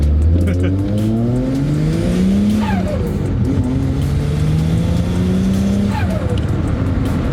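A turbocharged Ford AU engine, tuned on a budget, revs up loudly close by, rising and falling in two sweeping pulls over a steady roar.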